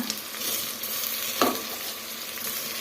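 Raw rice is added to moong dal frying in a pan and stirred, a steady close sizzle with light scraping and a single brief clink of the spoon midway.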